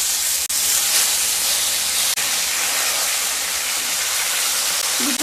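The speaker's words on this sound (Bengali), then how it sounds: "তেল গরম হয়ে গেলে মাছগুলোকে ভেজে নেব" Tilapia fish frying in hot mustard oil in a pan, giving a steady, loud, dense sizzling hiss that fills the whole span with barely any change.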